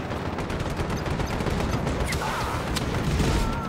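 Fire Leech weapon firing in Just Cause 3, a dense run of rapid, loud bursts and blasts that continue steadily over game sound for several seconds.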